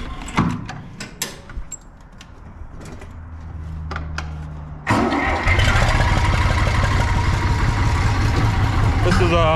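A Zetor tractor engine cranks and catches partway through, then settles into a loud, steady running rumble close by. Before it starts there are scattered clunks and handling noises.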